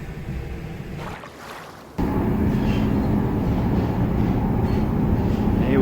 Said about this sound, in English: Here we go, on the train, under the channel,